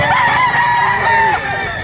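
Roosters crowing loudly and close at a chicken market in Lipa, Batangas, their long, strained calls overlapping in a continuous stretch.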